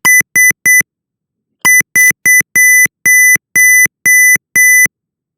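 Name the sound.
keypad door lock alarm beeping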